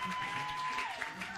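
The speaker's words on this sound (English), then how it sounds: "Clap your hands for God" A church congregation claps along during a worship service, a steady wash of hand claps over a sustained organ or keyboard tone, with voices mixed in.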